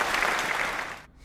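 Brief applause from a small audience welcoming a guest at a Banjarmasin podcast, steady clapping that fades out after about a second.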